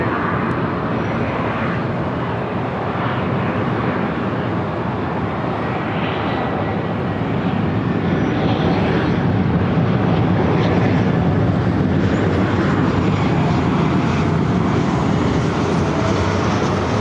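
A jet airliner takes off from a runway at LAX, a loud, steady roaring engine rumble that builds slightly and holds for the whole stretch with no speech over it.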